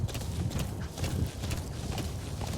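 A horse ridden in the video game Metal Gear Solid V: The Phantom Pain makes quick, even clip-clop hoofbeats up close, trotting over ground with a continuous low rumble beneath and no talking.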